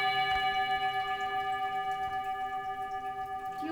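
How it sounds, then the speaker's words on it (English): A bell struck once with a good whack rings out near and clear, its bright sustained tone holding steady and slowly fading across several seconds with no talk over it. "If you could go ahead and ring that bell."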